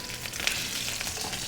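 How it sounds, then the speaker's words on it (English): Scallops searing in a hot pan, a dense steady sizzle and crackle of frying close by, continuous with no talking. "Sizzling away already."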